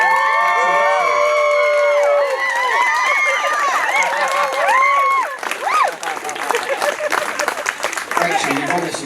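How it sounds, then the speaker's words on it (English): Wedding guests at the speeches applaud and cheer the bride, a loud close crowd of clapping with whoops and shouts, along with excited voices, the clapping growing more scattered toward the end. "Can we get a round of applause for how amazing"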